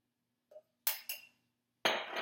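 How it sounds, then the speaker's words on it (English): An egg cracked against the rim of a cup while making a cheese omelet: a small tap, then two sharp cracking knocks, followed by a brighter clink and spill, close and isolated. "So since I'm using 2 eggs, I will crack 2 eggs"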